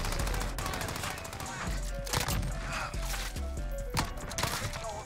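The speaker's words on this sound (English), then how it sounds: "I heard you shoot." Rapid bursts of video game gunfire from Modern Warfare multiplayer with an UZI, loud repeated volleys and sharp shots crackling throughout, with game sound effects layered in.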